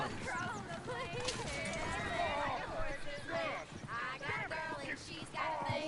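Horses in the video game Red Dead Redemption 2, their hooves clip-clopping and one whinnying under busy game dialogue and voices that carry on throughout.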